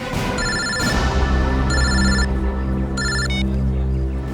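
A telephone rings in a tense crime-drama scene at a gate, sounding repeated electronic ringtone bursts that start and stop over a continuous background score, loud and close.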